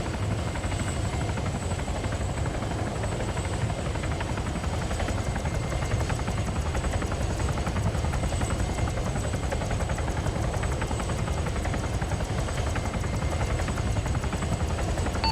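An aircraft departs runway 22 left in a military flight simulation game, a loud, steady engine and rotor drone held without a break from start to end, with no voices over it.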